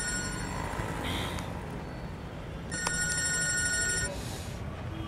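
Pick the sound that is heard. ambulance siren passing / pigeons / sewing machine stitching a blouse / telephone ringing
telephone ringing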